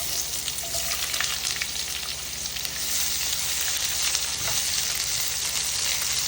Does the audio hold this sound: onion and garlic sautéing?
yes